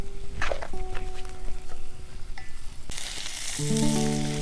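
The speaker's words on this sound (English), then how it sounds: "so our meat should be just about cooked, or almost." Elk steak sizzles and fries in a hot cast iron pan at a camping cookout, a loud continuous crackle with occasional stirring and scraping, growing brighter and hissier toward the end, with no talk.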